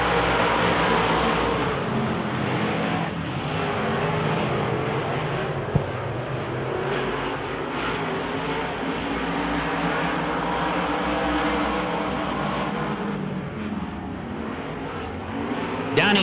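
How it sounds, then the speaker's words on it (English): Wissota Modified race cars roar around a dirt oval during a heat race, a continuous loud engine drone with dense broadband noise and no clear gaps. "We are green and we are racing."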